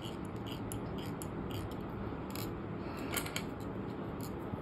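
Small scissors snip thread while tying a Rainbow Warrior perdigon nymph at a fly-tying bench, a run of light, quick metallic clicks spread across a steady background hiss.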